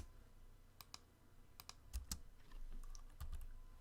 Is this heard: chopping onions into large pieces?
no